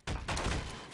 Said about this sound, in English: Fire the cannons, quick!